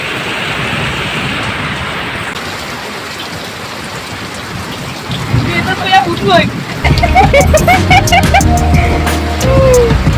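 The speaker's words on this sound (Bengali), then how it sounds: "দেখো এত বৃষ্টি আসছে" Heavy rain pours down during a storm, a dense steady hiss that grows louder and fuller partway through, with voices and clattering sounds coming in over the downpour.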